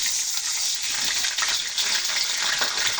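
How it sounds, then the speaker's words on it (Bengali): Water poured into a hot pan of onions frying with whole spices for a country-chicken curry, giving a steady loud hiss and gush of splashing sizzle that runs throughout without pause. "এখন সামান্য পরিমাণ পানি দিয়ে দেবো"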